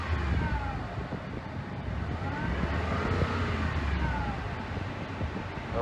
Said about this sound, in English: What you're hearing, a woo, is the compressor.